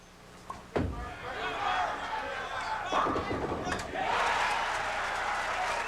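At the 1987 PBA Greater Buffalo Open, a sharp bowling impact cracks out early, then the crowd's cheers and applause for the bowler build into a sustained, louder roar near the end.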